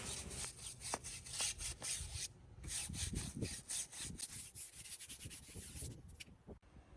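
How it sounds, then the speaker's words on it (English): Brush scrubbing the tires of an Audi S4 with degreaser water, a series of quick rhythmic bristle strokes, close and quiet, with short pauses and no talking. "I'm going to sit here and I'm going to scrub the tires"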